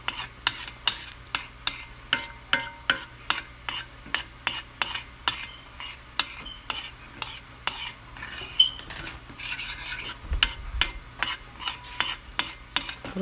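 A metal spoon stirs sugar melting in a pot for honey syrup, scraping the pan in quick, regular strokes about once a second, with a faint sizzle beneath.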